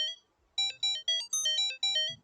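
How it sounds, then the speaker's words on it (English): A bright, bell-like synthesized pattern plays a quick sequence of short, metallic tones with a bouncy, irregular rhythm, clear and alone. "This is the FM synth."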